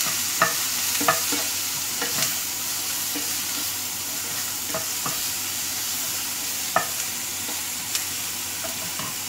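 Chopped onion, tomato and capsicum sautéing in a hot pan for stuffed kulcha filling, with a soft continuous sizzle under repeated scraping stirs and a few sharper clicks of the spoon against the pan. No talk.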